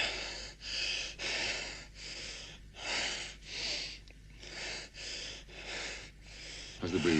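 Heavy rhythmic breathing, a steady series of loud, rasping inhales and exhales close by, each breath roughly half a second long with brief pauses between.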